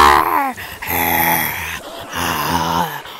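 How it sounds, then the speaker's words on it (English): Growling from a Brawl Stars character during ranked play sounds as a loud, rough, drawn-out snarl in two long bursts with brief breaks between them, alone and close up. "Why am I growling?"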